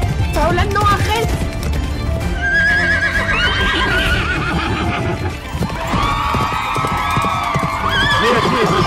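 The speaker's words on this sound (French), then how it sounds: "Mais à qui est ce cheval?" A horse in the Star Stable video game neighs and whinnies loudly again and again over hoof clip-clops, layered with game music and excited voices.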